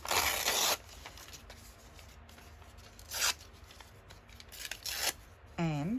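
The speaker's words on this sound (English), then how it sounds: "So I'm going to tear this." Decorative paper being torn by hand for a junk journal, a few short ripping bursts separated by quiet pauses, close and crisp.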